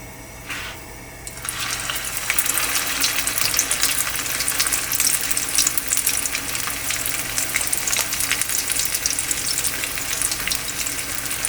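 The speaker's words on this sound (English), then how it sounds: "So now we're gonna fry our chapli kababs" Chapli kababs, extra large and meat-based, frying in a pan: a quiet start gives way after about a second and a half to a loud, steady, crackling sizzle that holds close and continuous to the end.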